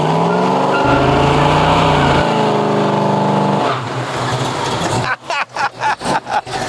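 A Chevrolet C10 pickup with a B&M shifter revs hard, then its tires squeal and chirp in a burst of rapid stutters, loud and close, with a quick pulsing break-up as the burnout ends.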